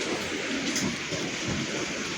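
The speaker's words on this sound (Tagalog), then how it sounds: "ayun yung bagyo" Typhoon Uwan's heavy rain and strong wind roar steadily and close by, a dense, unbroken wash of noise with no voices.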